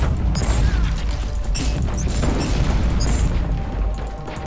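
A grenade blast in the video game Warhammer 40,000: Inquisitor - Martyr, a loud rumbling boom amid crashing debris, metallic clanks and steady combat noise, continuous and dense with no talking.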